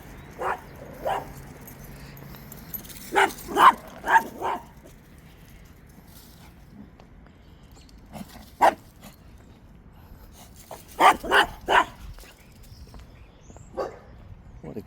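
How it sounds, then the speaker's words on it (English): A tiny dog by a roadway barks and yips in short clusters with long pauses between, fairly close and sharp against quiet outdoor background. "This is just a little bitty dog."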